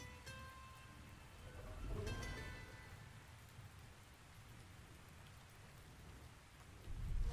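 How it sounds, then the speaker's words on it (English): Steady, close rain pours at night in the video game Ark Astraeos. It is a dense, even hiss with a low rumble beneath, swelling slightly near the start and again at the end, with no voices. "Oh, it's nighttime and raining."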